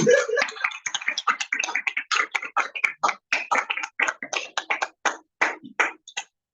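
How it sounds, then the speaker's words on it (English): Scattered claps from a small group greet the chairperson at a Toastmasters speech marathon, quick, uneven and close, thinning out toward the end with no talking. "Round of applause to our chairperson."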